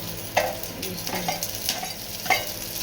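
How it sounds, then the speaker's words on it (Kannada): Chili, garlic and curry leaves fry in a pan for a horse gram curry, with a steady close sizzle and several distinct spatula stirs and scrapes. "ಮೆಣಸಿನಕಾಯಿ, ಬೆಳ್ಳುಳ್ಳಿ, ಕರಿಬೇವು ಹಾಕಿ ಫ್ರೈ ಮಾಡ್ತಾಯಿದ್ದೀನಿ."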